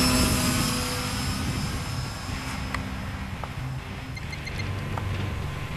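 An RC model sport airplane's small engine drones loudly and steadily on takeoff, slightly fading as it moves off, with a high buzzing whine over broadband rumble.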